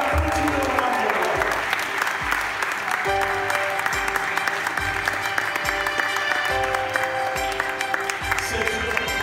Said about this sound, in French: on applaudit le roi de roi.